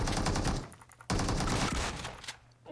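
Rapid bursts of automatic gunfire in a battle royale game, two dense volleys separated by a short pause, loud and close with no talk.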